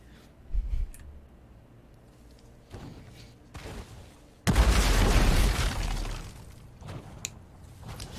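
A gravity bomb goes off in the Heroes of the Storm video game: quiet clicks and scattered hits give way to a sudden, loud, dense explosion that roars for about a second and a half, then fades back to sparse game sounds.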